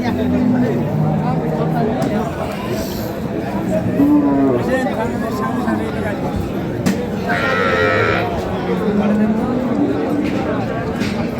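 At a livestock market selling Sahiwal, Sindhi and local breed dairy cows and calves, several cattle moo in drawn-out calls at varying distances, with crowd chatter and nearby voices throughout.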